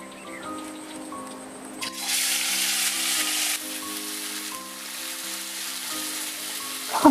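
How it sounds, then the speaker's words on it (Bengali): Ground onion, garlic and chili paste dropping into hot oil for a katla fish dish, bursting into a loud, steady crackling sizzle over a faint background hum. "ওই তেলের মধ্যে এখন দিয়ে দিচ্ছি পেঁয়াজ রসুন আর লঙ্কা একসঙ্গে যে বেটে নিয়েছিলাম সেই মশলাটা দিয়ে দিচ্ছি"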